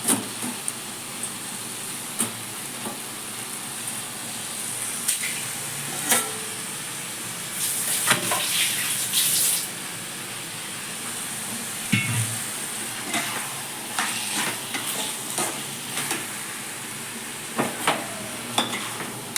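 Shrimp masala sautéing with onion and tomato in oil, a continuous low sizzle broken by sharp spoon clinks and scraping stirs against the pan, close and moderately loud.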